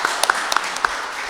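A few scattered hand claps welcome a guest to a studio panel table, sparse and fading against a steady room hiss.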